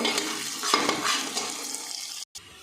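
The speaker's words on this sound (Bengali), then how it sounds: "আদা কুচি, রসুন কুচি, লঙ্কা কুচি। ভালো করে একটু কষিয়ে নেব।" Chopped ginger, garlic and green chili sautéing over fried onion in a pan, a close, dense crackling sizzle with scraping stir strokes, ending in a sudden brief cutoff.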